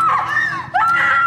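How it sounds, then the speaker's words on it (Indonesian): A woman screams in fear, two sustained shrill cries broken by a brief pause, loud and close with a crowded, shouting ambience behind. "Miu pun mengambil gunting yang membuat Sara berteriak ketakutan"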